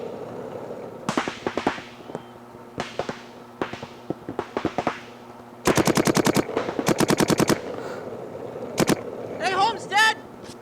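Paintball markers fire during a paintball game, first as scattered single pops and short bursts, then as rapid rattling volleys close by, with a voice briefly heard near the end.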